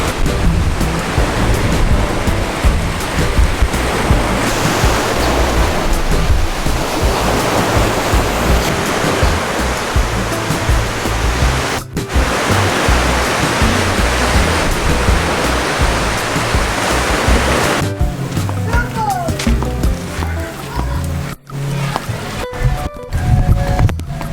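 Sea surf on a white sand beach in Cagayan de Oro, Philippines, a loud continuous roar of breaking waves close by, with wind noise and some handling bumps toward the end, no talking.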